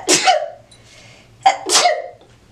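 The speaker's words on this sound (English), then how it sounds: "This stuff powdery is about to make me sneeze." Two loud, sharp sneezes close to the mic, brought on by powdery hair dye, each a quick explosive burst, separated by a short pause.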